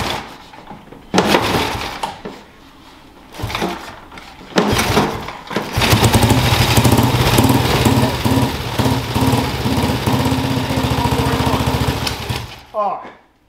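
A 1933 Cotton motorcycle is kicked over with a few sputtering attempts, then its engine catches and runs with a loud steady rapid beat before being shut off.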